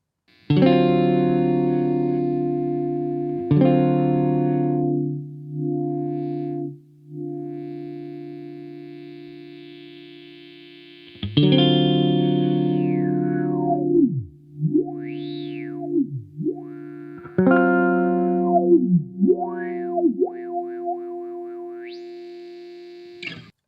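A distorted, crunchy synth tone through an EHX Mainframe bit crusher pedal holds steady, then a filter sweeps up and down repeatedly and the pitch swoops. The sound is loud and alone.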